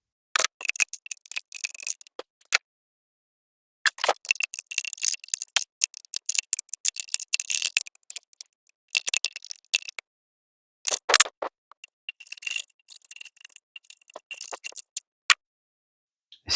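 Gasoline sloshes and rattles inside a weed eater carburetor in several bursts of shaking, separated by short pauses of silence.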